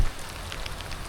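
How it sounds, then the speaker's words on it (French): Rain pattering down steadily during a run through a storm, a dense close hiss of drops striking surfaces, even and unbroken with no voices. "Fini sous la pluie."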